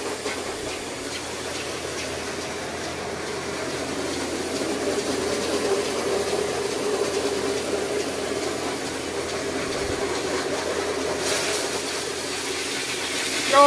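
A Rotovac 360 XL carpet cleaning machine runs with a continuous, fairly loud whirring and watery hiss, steady throughout with no voices.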